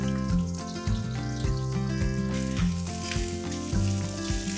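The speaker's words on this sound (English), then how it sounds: "I'm just going to saute this in the oil." Drumstick pieces sauteing in hot coconut oil give a steady, loud, close sizzle and crackle, with rhythmic low thumps of stirring underneath and no voices.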